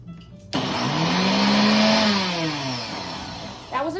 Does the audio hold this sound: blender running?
yes